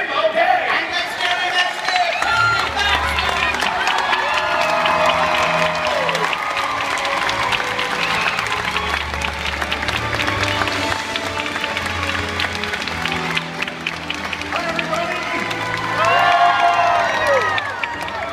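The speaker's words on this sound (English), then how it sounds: "Lords and ladies, please give a robust royal round of applause" Crowd applause and cheering with whoops from a warm-up audience at a Disneyland Sleeping Beauty annual passholder event, steady and loud throughout, a dense roar with shouts rising near the end.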